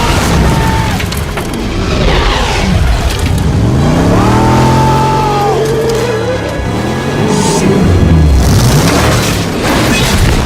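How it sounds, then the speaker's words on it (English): Action-movie car from the Fast and Furious franchise ramping onto a boat, loud engine roars and revving sweeps mixed with heavy booming impacts and dramatic rumble, continuous and dense throughout. "They ramp onto a boat like the Dukes of Hazzard movie."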